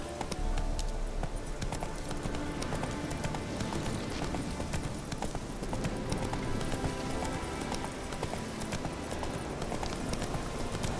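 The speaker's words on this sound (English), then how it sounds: "Run, Roach" A horse gallops in The Witcher 3: Hearts of Stone, its hooves drumming in a fast, continuous, even beat that stays loud and close for the whole stretch.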